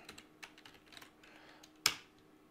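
Light typing on a computer keyboard, a few soft keystrokes ending with one sharper key press, close and quiet.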